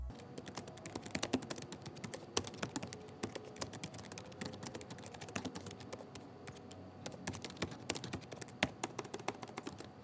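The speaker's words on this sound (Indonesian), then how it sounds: "kasih contoh suara feedback dari keyboard MSI Delta" Keys clicking on an MSI Delta 15 A5EFK AMD gaming laptop keyboard, a steady stream of light, close taps at a fast typing pace for about ten seconds, with no voices.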